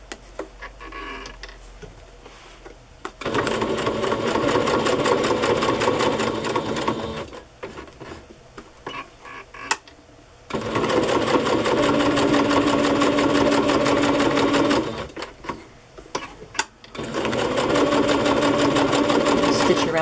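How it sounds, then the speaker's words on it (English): A sewing machine runs a straight stitch through a handmade paper journal in three sustained whirring bursts, with short quiet pauses and light handling clicks between runs. "Okay, I can sew this now. I think think I'll just use a straight stitch here."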